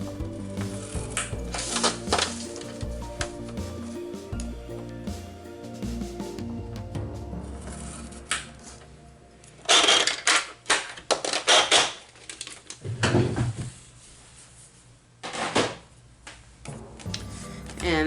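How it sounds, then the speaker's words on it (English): A scoring tool draws lines along paper for a handmade file folder, giving dry scraping strokes with a few sharper bursts midway, set against steady soft background tones. "I'm just going to score a line on each side at a 1/2 inch"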